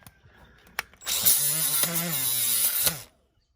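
Die grinder spinning up on a Craftsman LT2000 riding mower: a few faint knocks, then a loud, steady whining run of about two seconds that stops abruptly.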